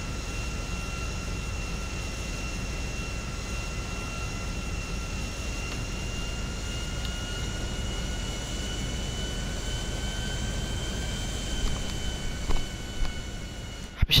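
A small airplane's engine drones steadily in a flying video game, a continuous loud hum with a constant whine held throughout, no talking over it.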